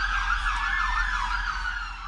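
Ambulance sirens wail steadily at an emergency scene where dozens were wounded, a continuous rising and falling tone over a low road rumble, loud and close for the whole stretch.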